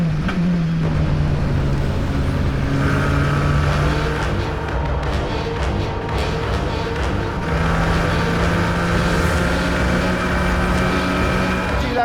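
Formula 4 race car on a circuit, engine droning steadily and loud throughout with shifting pitch as it runs, other cars' engines mixed in nearby.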